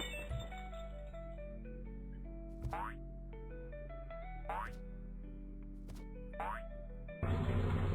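Springy, cartoonish boings from a car bouncing in a video game repeat about four times at even intervals, each a quick rising twang over steady background tones.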